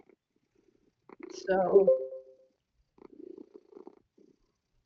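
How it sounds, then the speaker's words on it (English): A pet cat purrs loudly right beside the microphone in a short rumbling burst, then purrs more softly a moment later. A voice briefly speaks over the first burst. "somebody is purring"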